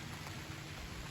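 Heavy rain pours steadily at a deer camp in West Virginia, a constant close hiss of water with no voices.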